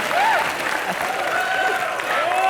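Studio audience applause at a live comedy show, dense clapping from a crowd throughout, with a voice talking over it.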